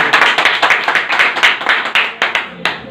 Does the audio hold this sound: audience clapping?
yes